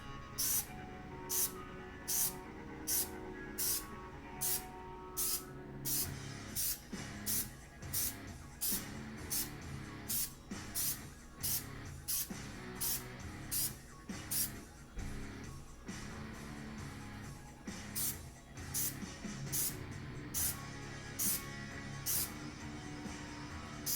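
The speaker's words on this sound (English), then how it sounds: "We'll just spray it." A spray can hisses onto parts of an EVGA Kingpin 2080 Ti graphics card in dozens of short, evenly spaced bursts, close and steady, over a low background hum.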